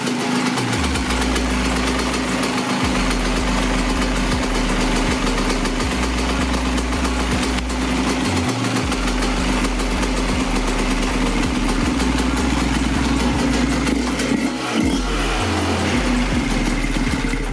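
Yamaha DT 50 motorcycle fitted with a swapped 125 YZ engine, idling steadily and loudly up close with a throbbing low rumble and small fluctuations in its beat throughout.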